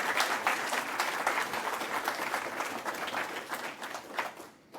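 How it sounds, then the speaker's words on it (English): Sustained applause from an audience at the Nova Scotia Digital Inclusion Awards ceremony, dense steady clapping filling the room for several seconds before thinning and fading at the end. "So let's give a round of applause for the Nova Scotia Department of Cybersecurity and Digital Solutions."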